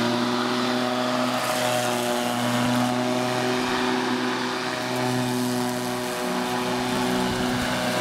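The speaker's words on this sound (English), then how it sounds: "So I can't really talk when I'm pushing a lawnmower. It's just very loud." A Black and Decker MM1800 corded electric lawn mower hums loudly and steadily close by, a constant whirring drone with no pauses.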